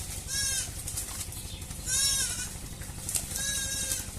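Goats in a flooded shed give three loud, wavering bleats at regular intervals over a low background rumble.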